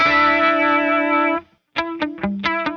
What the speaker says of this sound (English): I also think that the heavy metal pedal makes that part a little too extreme